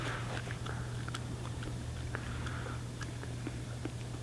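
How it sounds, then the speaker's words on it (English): Raw russula mushroom being bitten and chewed outdoors on a mushroom tour, soft crunchy chewing clicks scattered over a steady low hum, close and fairly quiet throughout. "I'll take a bite with you."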